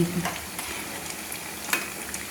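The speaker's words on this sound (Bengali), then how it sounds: "তোমার বেগুনি ভাজা হয়ে গেছে। আমি তুলে নিচ্ছি।" Fried beguni, battered eggplant slices, being lifted out of hot oil, a steady sizzle with a few soft clinks and splashes of the utensil.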